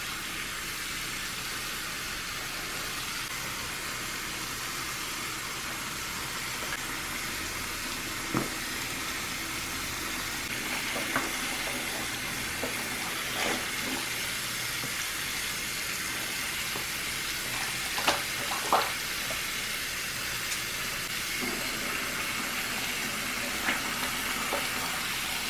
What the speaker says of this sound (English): First thing I do is fill up the tub with hot water.